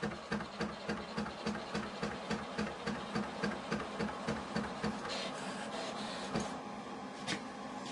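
A Synergy 17 vinyl cutter cuts a rhinestone template, giving a steady mechanical whir with a fast regular pulsing as the carriage moves, close and continuous, with no talking.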